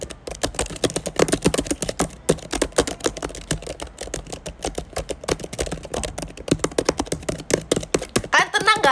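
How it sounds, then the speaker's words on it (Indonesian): Computer keyboard typing in an ASMR style, fast steady clacking keystrokes up close and fairly loud, running continuously with a brief different sound near the end. "aku ya kalau misalnya dengerin ASMR keyboard tuh pasti"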